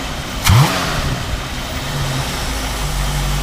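A 1968 Mustang's 289 V8 with a freshly rebuilt carburetor snaps to wide-open throttle in one short, sharp rev, then drops back to a steady rumbling idle, heard close up with no talking.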